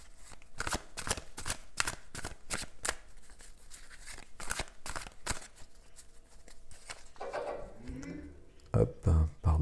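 Tarot cards being shuffled: a rapid series of crisp riffling snaps and slaps in a steady rhythm, close and fairly quiet, with soft speech in between and a brief louder bump near the end.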